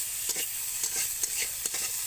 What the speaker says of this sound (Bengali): এরপর ওই তেলে উচ্ছেগুলোকে ভাজা করে নিচ্ছি